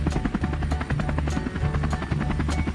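Toy helicopter sound effect for a PAW Patrol figure rescue scene, a steady rhythmic rotor chop with a droning hum running continuously and loudly throughout, no talking.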